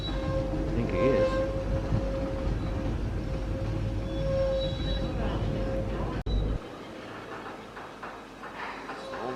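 A northbound freight train passes at Cooroy with a steady low rumble and a sustained tonal drone, loud and near, before the noise drops sharply after about six seconds to a quieter wagon roll.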